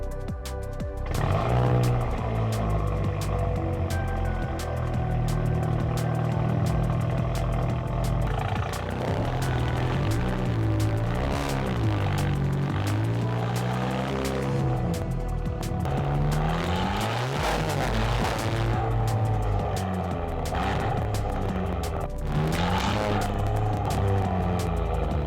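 A 2017 VW Golf GTI Performance, a crashed and repaired car, driven on an estate, its engine and loud exhaust droning steadily, revving up and down through gear changes with sustained throaty roar throughout.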